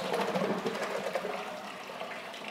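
About two gallons of water pours into a brewing kettle for an oatmeal raisin cookie stout, a loud, close rushing gush that gradually eases off.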